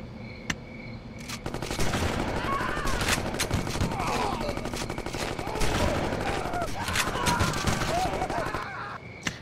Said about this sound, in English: Oh, they're already shooting at us.